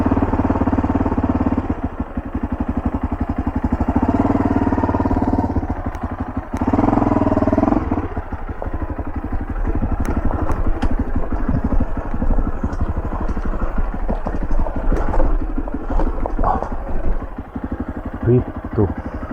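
A motorbike engine climbing a steep mountain road, droning steadily and close throughout, with rattling clatter and rough bumps as it labours uphill.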